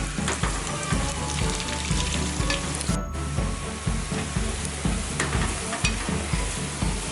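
Sliced onions and green chillies sizzle loudly in a pan while a spoon scrapes and stirs them in repeated strokes, with a brief pause midway and no voices.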